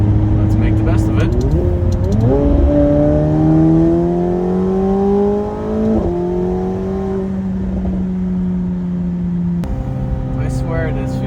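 McLaren 750S in sport mode, engine note climbing loud and close through several gears with sharp steps as it upshifts, then a brief drop and a fresh rise near the end, with a voice talking over it.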